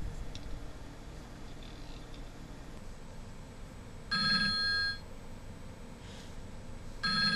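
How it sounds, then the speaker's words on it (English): An IP phone's electronic ring in two bursts, the second cut short, over a low steady room hum. "in a few seconds the machine will start ringing."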